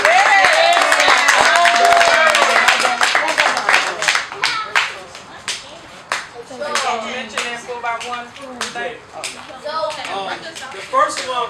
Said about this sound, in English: Let's clap it up for our 6 and unders.